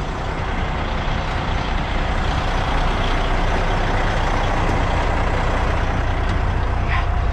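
A truck idles and rumbles loudly and steadily up close while its trailer is dropped, with a faint brief hiss near the end and no talking.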